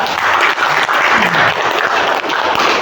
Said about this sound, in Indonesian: kita aplaus dulu ya